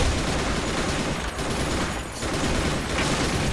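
Rapid bursts of gunfire in a shooter video game, dense and loud throughout with brief dips, no talking.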